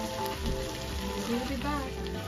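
Ginger frying in a pan gives a steady, close sizzle and crackle that runs throughout, with a voice murmuring faintly beneath it.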